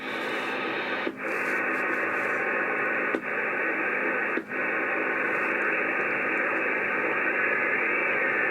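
A Uniden Grant LT SSB CB radio tuned to sideband hisses with steady loud static, broken by a few brief dropouts, with no voices coming through.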